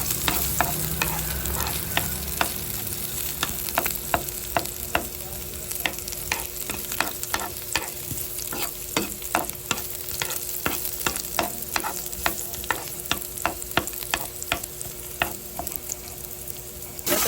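Garlic sizzles steadily in oil in a pan, with frequent sharp clicks of a spatula or spoon stirring and scraping throughout, continuous and fairly loud with no voices.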